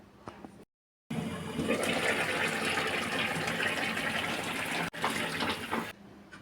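Hot water pours into a pan of simmering vegetables for Bengali dudh shukto, a loud steady rushing splash lasting about five seconds after a brief silence, with no talking.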